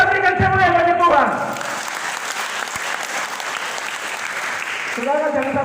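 Church congregation applauding during a faith revival service in Sabu Raijua, a dense, steady wash of clapping that fills the middle of the clip, with a speaking voice at the start and end.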